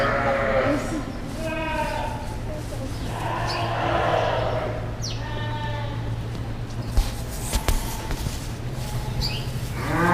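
Ewes and goats bleat repeatedly in a barn maternity room, several overlapping calls of varying pitch over a steady low hum of ventilation, with a person talking throughout.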